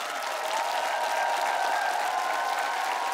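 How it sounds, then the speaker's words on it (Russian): Steady, fairly faint applause from a studio audience for Ivan, the winner on a TV talent show, with a dense, even patter of many hands clapping for the whole short stretch. "Ему аплодисменты."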